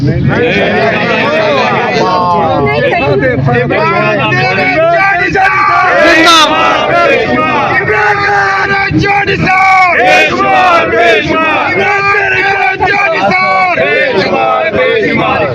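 A large crowd of supporters chants political slogans at a gathering outside Imran Khan's place. Loud, continuous massed voices fill the whole stretch at close range.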